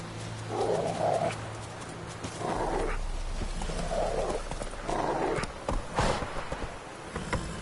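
A horse gallops in The Witcher 3, its hooves drumming in rhythmic bursts that pulse loud and close, with a low rumble underneath throughout.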